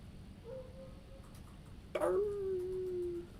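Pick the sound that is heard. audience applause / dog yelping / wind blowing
dog yelping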